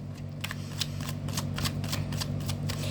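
Tarot cards are shuffled by hand in a quick run of crisp riffling flicks, each burst sharp and close, repeating rapidly for about three seconds with no talking.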